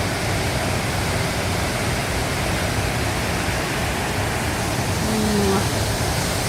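The waterfall at Pontneddfechan in autumn, rushing water pouring as a loud, even roar that fills everything, with a faint short tonal sound near the end.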